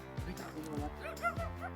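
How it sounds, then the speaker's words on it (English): A pit bull puppy barking in a residential neighborhood, a handful of short high yips and bow-wows in quick succession, close and fairly clear, with a person talking nearby. "And we got dogs. That's a pit bull puppy, right?"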